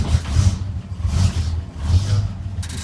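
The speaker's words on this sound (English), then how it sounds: "Let me just start the truck and show you what happens." A truck engine starting and running at a low idle, with a rough, pulsing rumble that rises and falls in three or four surges, close and moderately loud.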